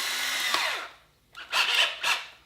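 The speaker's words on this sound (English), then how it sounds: "we'll drill a pilot hole in the center of the light" A power drill bores a pilot hole into the center of a plastic headlight on a Mustang Power Wheels toy car, one sustained whine winding down, then two short high-pitched bursts.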